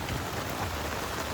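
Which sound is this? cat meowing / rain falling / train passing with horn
rain falling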